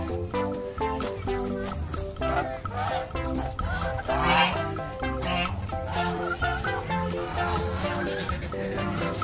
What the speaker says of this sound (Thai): ตอนนี้เรากำลังจะเข้าไปดูห่านใช่ไหม ห่าน